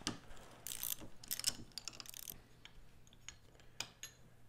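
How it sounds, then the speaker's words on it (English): A 10 millimeter socket wrench ratchets to loosen a retaining bolt during repair of a fibreglass pole hub on an Eskimo Hub ice shelter, giving close, quiet bursts of rapid clicking with short pauses between them. "Just takes a 10 millimeter socket to undo this"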